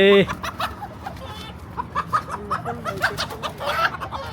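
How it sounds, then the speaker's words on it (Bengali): A mother hen clucking on a farm, a run of short rhythmic clucks up close, loud and persistent over a faint background murmur. "খুব ভালো একটা মা মুরগি"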